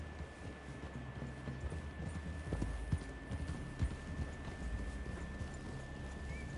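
Horse hooves clip-clopping in the Red Dead Redemption 2 video game, a steady low plodding rhythm with a few sharper hoof knocks, mid-distance under a constant background hum.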